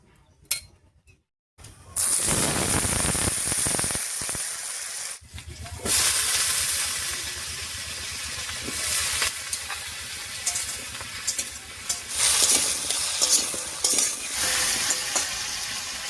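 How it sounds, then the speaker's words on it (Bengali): After a short quiet, a loud burst of sizzling as chopped papaya hits hot oil with fried tempering spices, continuing steadily with stirring scrapes and occasional clinks. "এবারে কেটে রাখা পেঁপেটা দিয়ে দিচ্ছি"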